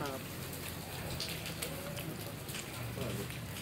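Rain falling at an outdoor food stall selling fried samosas and peanuts, a steady soft hiss of drops with scattered patters, mixed with background voices and chatter throughout.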